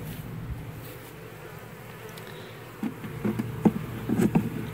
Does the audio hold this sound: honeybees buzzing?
yes